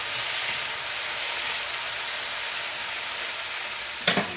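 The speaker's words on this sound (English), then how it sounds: "Now I'm going to add the beef back to the onion. Stir this back up." Beef and onions sizzle in a hot pan with a steady, moderate hiss as they are stirred together, with a brief utensil scrape against the pan near the end.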